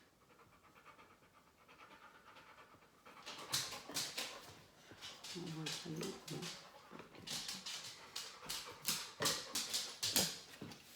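A dog panting and shuffling around indoors during a first nail-trimming session, with rapid breathy pants in bursts and soft movement noises, while someone speaks French commands nearby.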